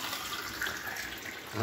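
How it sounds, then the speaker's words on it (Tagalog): Water pours steadily into a frying pan with heated cooking oil while papaya is being cooked, a continuous close splashing rush with no talk. "Ilagyan muna natin ng tubig"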